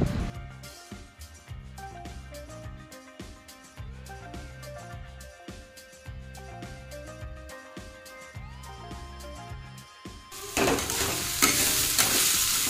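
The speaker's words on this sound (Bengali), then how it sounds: "তো দিয়ে এবার একটু নেড়ে চেড়ে আবার ঢেকে রাখবো" Watermelon rind curry is stirred in a pan with repeated scraping clinks and a soft frying sizzle, close by, the sizzle swelling louder near the end.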